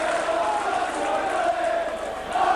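Rugby league crowd of Saints supporters at St Helens applauding good play against Widnes, a steady roar of clapping and cheering filling the whole stretch, swelling slightly near the end.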